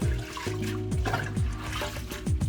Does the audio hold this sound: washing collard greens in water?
yes